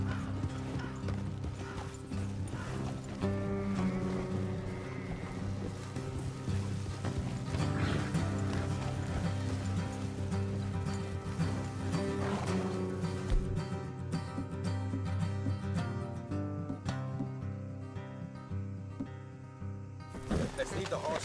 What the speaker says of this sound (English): Let's leave the horses here and go the rest on foot.